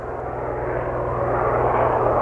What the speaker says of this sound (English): It's a fucking helicopter.